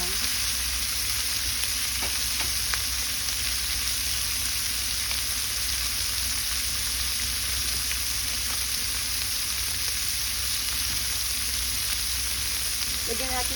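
Sliced bitter gourd (ampalaya) frying in a pan, a steady bright sizzle running throughout with occasional soft scrapes of stirring, loud and close, with no talk.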